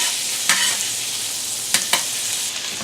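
Minced garlic and onions sizzling in olive oil in a pan, a steady loud hiss with a few sharp stirring scrapes, no talking.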